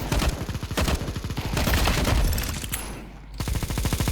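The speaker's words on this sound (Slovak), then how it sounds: "ja neviem ani skade strieľa ten Dilino hlúpy" Rapid bursts of automatic gunfire in Counter-Strike, sharp repeated shots in quick volleys with a brief pause near the end before firing resumes, loud and close.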